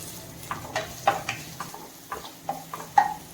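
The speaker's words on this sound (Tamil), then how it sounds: "வெங்காயத்தையும் சேர்த்துட்டு ஃப்ளேமை மீடியம் டு லோலியே வச்சு 2-3 நிமிஷம் நல்லா வதக்கி விட்டுக்கோங்க." Chopped onion with cumin sautéing in hot oil in a pan for a restaurant-style mushroom gravy: a soft, quiet sizzle broken by scattered taps and scrapes of stirring.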